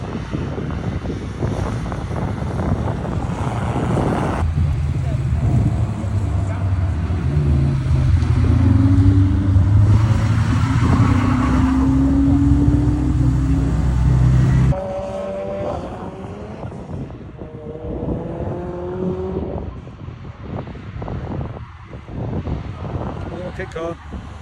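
An open-top Spire GTR kit car with a 1.8-litre turbocharged engine drives past loudly for about fifteen seconds, its engine note droning steadily, then the sound drops away to quieter road noise and brief voices.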